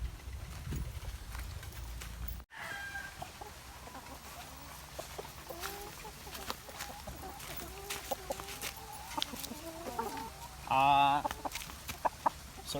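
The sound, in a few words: chickens clucking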